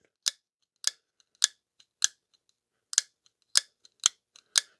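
Vosteed Vallhund folding knife flicked open and closed repeatedly, giving about eight crisp, bright metallic clicks at an uneven pace, close up and isolated in an otherwise quiet room.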